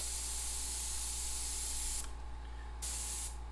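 An airbrush sprays paint to shade teeth in lowrider-style artwork, giving a steady close hiss that cuts out briefly and resumes near the end, over a low constant hum.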